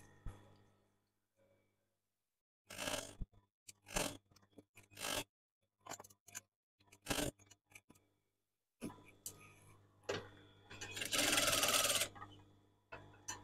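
Domestic sewing machine stitching three-inch curtain header tape onto unlined curtain fabric, running in several short bursts separated by pauses, with a longer, louder run near the end.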